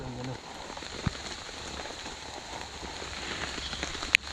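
Steady rain patters on an Alpkit Soloist bivvy tent at a wild camping spot, a continuous soft hiss with a few louder drips standing out near the end.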